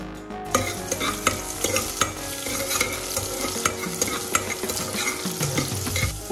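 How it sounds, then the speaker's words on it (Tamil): Green chili and crushed garlic sizzle steadily in a hot pan while a utensil stirs and scrapes, with frequent clinks of metal against the pan. "அதில் நம்ம பச்சை மிளகாய், இடித்து வச்ச பூண்டு போட்டு நல்லா வதக்கிடலாம்."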